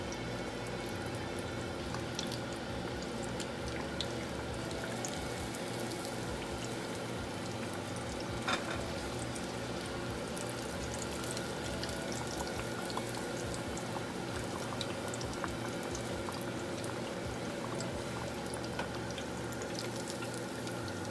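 Shrimp-topped deviled eggs deep frying in hot oil on medium-high heat, a steady dense sizzle and bubbling crackle that continues evenly throughout, close and without talking.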